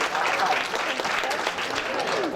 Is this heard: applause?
yes